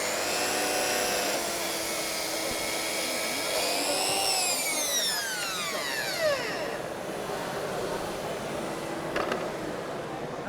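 A Mafell cross-cut saw runs along its guide rail, holding a steady high motor whine that rises, then sweeps down in pitch as the blade bites into the wood and winds down.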